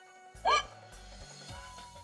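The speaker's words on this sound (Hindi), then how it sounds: "हिचकी लग गई है" A single sharp hiccup breaks out in a domestic comedy scene, followed by a low, sustained background music bed, the hiccup short and loud against an otherwise quiet setting.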